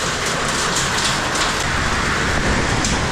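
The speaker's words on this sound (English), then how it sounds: "It's only raining." Heavy storm rain pours down outside a garage, a dense, loud, continuous wash of drops drumming on surfaces with no voices.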